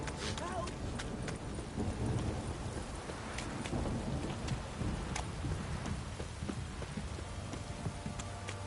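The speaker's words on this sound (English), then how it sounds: "This downpour's a bastard" A heavy rain and thunder downpour in the video game The Witcher 3 keeps up a constant hiss with scattered sharp cracks and low rumbles. Voices talk over the storm.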